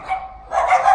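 A dog on a street in Portugal gives a couple of quick, sharp barks close by in a single brief burst.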